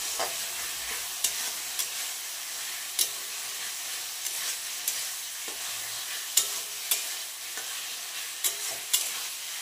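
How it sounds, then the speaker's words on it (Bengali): Goat liver sautéing in a pan, a continuous soft sizzle broken by sharp spatula scrapes and taps at irregular intervals, close and moderately loud with no voices. "তো এখন মেটেটা একটু দিয়ে দিই, দিয়ে একবারে কষিয়ে নিই"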